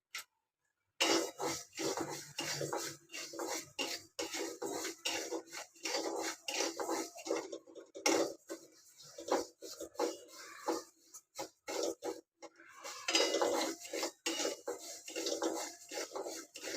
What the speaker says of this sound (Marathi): हे बघा धणे टाकले आणि बडीशेप एकत्र भाजून घ्यायची.